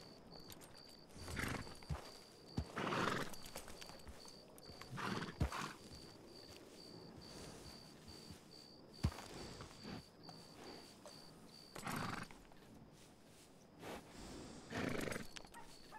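Horses in a western video game whinny in several loud bursts spread across the scene, with faint hoof clip-clop in between and a steady high ambient tone running underneath.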